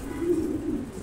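Racing pigeons coo close by, one soft, low, steady throaty murmur rolling for about a second with no voices over it.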